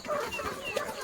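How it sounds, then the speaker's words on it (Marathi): Chickens bought for a party meal cluck faintly and briefly, a few short soft calls over light background noise with no talking. "हे बघा 3 कोंबडी घेतला"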